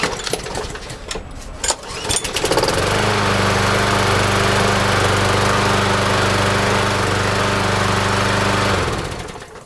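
A small gasoline mower engine, started with the primer pushed and the blade brake pulled back, sputters and catches after a couple of cord pulls, then runs at a steady, loud roar for several seconds before cutting out.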